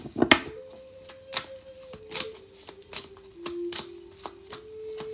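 Tarot cards shuffled by hand in a series of crisp, riffling bursts and soft slaps, close and fairly quiet, with a faint steady tone running underneath.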